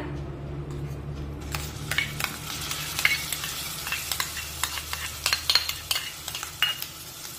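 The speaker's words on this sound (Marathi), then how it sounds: "यामध्ये हे जे वाटण आपण तयार करून घेतलेलं आहे ते यामध्ये टाकूया।" A ground wet paste is stirred into masala frying over a low flame for a spicy matar bhaji, with steady scraping strokes and soft clinks of the spoon against the pan over a faint, continuous sizzle.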